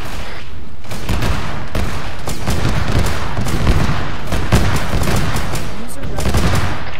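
Rapid, dense gunfire in the video game Arma 3 crackles continuously, bursts of automatic fire layered with heavier booms, loud and close throughout with a voice briefly under it.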